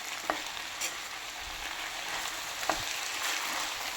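Cooked ivy gourd is stirred with salt in a pan, giving a soft continuous sizzle with a few light scraping strokes of the spoon, close and fairly quiet.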